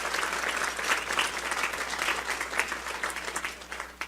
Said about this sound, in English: Could we give them a big round of applause for their service?